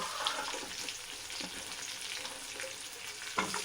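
Onions and green chillies sautéing in a pan for puffed rice upma, a constant crackling sizzle with soft stirring scrapes and a sharp utensil knock near the end, close-up with no voices.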